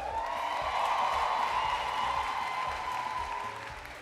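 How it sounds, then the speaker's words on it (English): Studio audience at a televised singing-competition eviction night applauds the contestants with steady, dense clapping and some crowd noise throughout, loud and sustained before tapering slightly at the end. "Huge round of applause."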